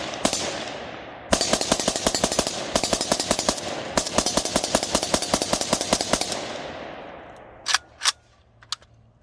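A Riley Defense AK74 side-folding rifle with teak wood furniture fires in loud, rapid bursts and strings of sharp reports, with brief pauses between volleys, followed by a few isolated shots and fading echoes.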